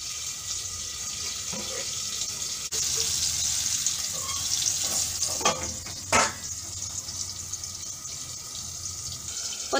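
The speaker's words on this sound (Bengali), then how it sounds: "আমি ফুলকপি আর আলুটা ভেজেছি, এটা আমি হাঁড়িতে দিয়ে দেব" Fried cauliflower and potato go into a pot of vegetable khichuri, giving a steady faint sizzle with scraping and stirring clatter, plus a couple of sharper knocks midway.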